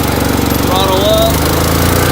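A 2008 Boxer 530X mini skid steer engine throttles up into a steady, loud mechanical drone, its pitch rising and then holding level close by with no talk over it.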